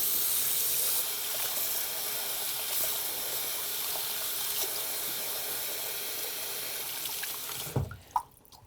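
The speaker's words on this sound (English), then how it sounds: "So I'm just gonna rinse this." Running tap water rinses a shower head clogged with hard-water buildup, a steady broadband gush that lasts about eight seconds and then stops, with a few drips and clunks at the end.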